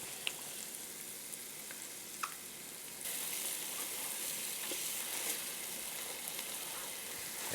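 Garlic sizzles steadily in a soup pot for a vegetarian broccoli and cheddar soup, a continuous broadband hiss that swells slightly louder partway through, with a few faint clicks and no voices.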